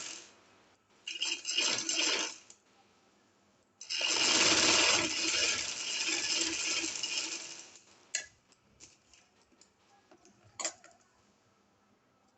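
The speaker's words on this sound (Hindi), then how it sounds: "अब हम सिलाई लगाएंगे, बड़ी एहतियात के साथ सिलाई लगाएंगे" A sewing machine stitches along a folded shirt neckline in two bursts of fast mechanical whirring, a short run then a longer one, separated by quiet, with a few clicks and ticks as the work is adjusted.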